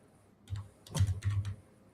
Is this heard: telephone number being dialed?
no